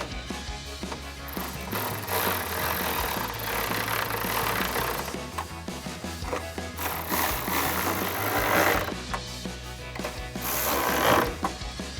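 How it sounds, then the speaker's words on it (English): A ratchet with a 10mm socket tightens bolts while a RedRock Baja upper replacement grille is fitted to a 2009-2014 Ford F-150, giving steady mechanical clicking and rattling close by across the whole stretch, with no voices. "Now take your 10mm socket and tighten those down."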